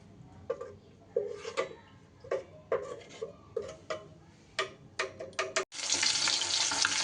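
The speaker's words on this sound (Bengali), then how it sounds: "মাছগুলো কিন্তু দেখুন বেশ সুন্দর করে ভাজা হয়ে গেছে" Rohu fish pieces fry in hot oil with rhythmic scraping and clinking in the pan. A sudden loud, dense sizzle then takes over near the end, with no talking.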